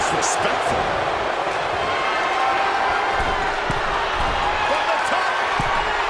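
A capacity crowd roars and cheers continuously in a wrestling arena during an Iron Man match, a dense, loud wash of voices with occasional sharp thuds and a commentator talking over it.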